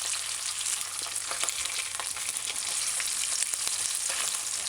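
Ham frying in oil in a pot, a steady close sizzle with dense crackling pops running continuously and alone.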